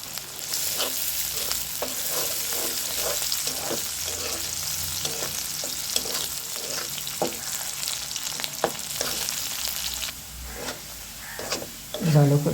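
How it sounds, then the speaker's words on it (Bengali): Dried chilies, onion and garlic sizzling in a hot pan, a steady bright frying hiss with repeated scraping strokes of stirring, a voice speaking briefly near the end. "ভালো করে ভেজে নিয়েছি।"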